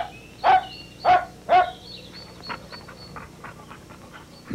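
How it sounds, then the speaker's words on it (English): A dog barks three times in quick succession close by, followed by softer panting and small whimpering yips. "King Frank arrived with his dog."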